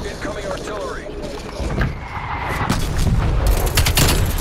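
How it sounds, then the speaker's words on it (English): Incoming artillery strike in a Call of Duty multiplayer match, with distant booms building into heavier, closer detonations and a sharp crackling burst near the end, under a busy game soundscape. "Incoming artillery."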